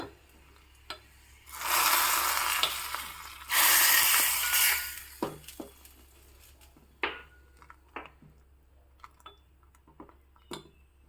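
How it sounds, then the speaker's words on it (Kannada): Tempering of spices poured into boiling rasam for a traditional Udupi Brahmin recipe gives a loud, hissing sizzle lasting a few seconds, then settles into scattered crackles and pops. "ಇವಾಗ ಇದಕ್ಕೆ ರೆಡಿಯಾಗಿರೋ ಒಗ್ಗರಣೆನ ಹಾಕ್ಕೊಳ್ಳೋಣ"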